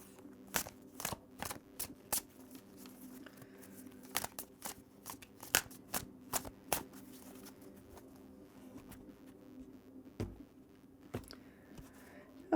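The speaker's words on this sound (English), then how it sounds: "I'm going to go ahead and give her a good shuffle for you" A tarot card deck shuffled by hand, giving a run of crisp, irregular riffling snaps and taps up close over a quiet room, with a few pauses between bursts.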